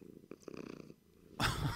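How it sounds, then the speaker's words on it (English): A short, soft rumbling purr with a few chirpy tones from a cat in Minecraft, then a burst of brighter noise at the end; quiet and close. "Little kitty noises."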